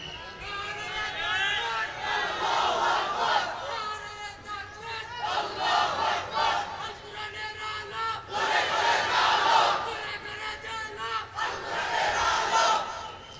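A large crowd at an Islamic religious gathering shouts the Nara-e-Takbir battle cry in repeated loud waves, with rising and falling massed voices over about a dozen seconds and no separate speaker audible.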